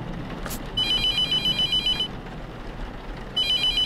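An old-style telephone bell rings in a horror video game, two long trilling bursts separated by a pause, loud and near over a faint background.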